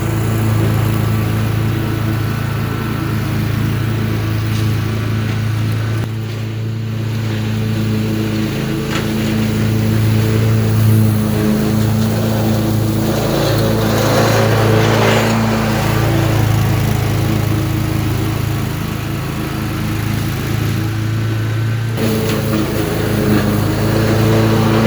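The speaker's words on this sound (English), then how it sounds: "Let's go do some more mowing." Gravely 152 lawn mower cutting tall, weedy grass, its engine droning loud and steady close by, with brief dips and surges in load throughout.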